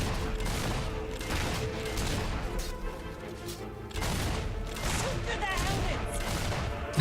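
Gunfire in the fantasy game Fable III, a continuous dense barrage of shots and crashes over a constant roaring battle bed, loud and unbroken, with voices talking through it.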